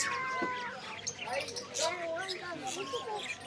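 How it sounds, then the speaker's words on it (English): Many small birds, including chicks and ducklings, chirp and tweet in a busy cluster at the pet section of a market in Doha, Qatar, with voices murmuring through the noisy market. "loads of little birdies. I was wondering what's making that noise."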